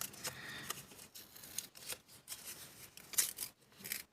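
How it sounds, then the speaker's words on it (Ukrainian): A paper surprise bag is opened by hand, giving soft rustles, crinkles and short tearing bursts in irregular bursts close up, with no talking. "і відкриваємо перший пакетик"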